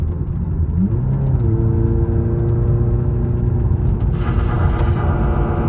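A Honda S2000 sports car engine hums steadily and then rises in pitch as it accelerates, with a deep, continuous rumble growing louder and harsher toward the end.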